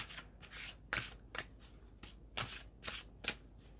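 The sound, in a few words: shuffling and drawing a tarot card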